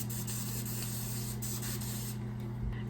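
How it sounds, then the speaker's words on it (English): Light-hold Rusk hairspray sprayed onto hair in a steady, continuous close hiss lasting several seconds, with a faint low hum underneath. "spray it with a little hairspray. I like to use a light hold hairspray like this Rusk."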